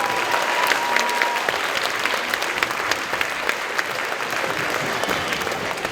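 An audience at a middle school band concert applauds, a steady sustained wash of many hands clapping, fairly loud and even throughout.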